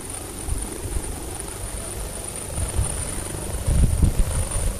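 A white helicopter's steady rotor drone and thrum, growing louder toward the end as it draws near to land at Lama.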